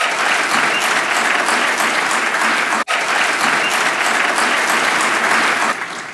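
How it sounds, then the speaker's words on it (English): A large audience at a formal dinner applauds new inductees steadily, dense clapping filling the space, with a brief break midway before the applause resumes and carries on. "please join me in a round of applause for those new inductees"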